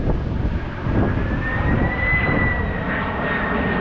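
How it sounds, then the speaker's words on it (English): A low-flying Amazon airplane passes overhead during a hike on Bender Mountain, a loud steady engine roar with a rising whine, close and unbroken, with no talk. "Here comes a plane."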